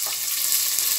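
Onions fry in oil for a spicy kara kuzhambu with chickpeas: a brief, bright, steady sizzling hiss with no other sounds.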